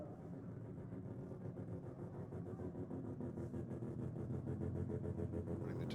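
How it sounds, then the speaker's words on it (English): A 2012 Chevy Camaro with a turbocharged LS engine gives a steady, rich mechanical drone that swells slightly louder toward the end, heard alone with no talking. "Daniel Beck in the 2012 Chevy Camaro."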